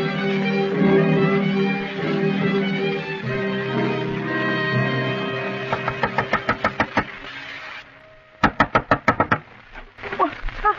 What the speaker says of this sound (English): You don't have to knock the door down.